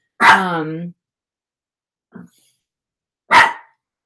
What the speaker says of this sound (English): stop barking at the cat.